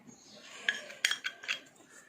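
A spoon clinks against a metal bowl while mixing ginger garlic paste into a fish marinade, giving four or five faint, quick metallic taps over about two seconds.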